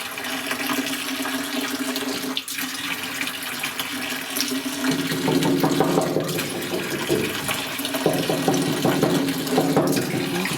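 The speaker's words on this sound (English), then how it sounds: "I think I'll leave it doing the glugging." Liquid pours steadily out of a jug in a continuous close, gurgling stream during fuel work on a 1957 Chevy, with no talking.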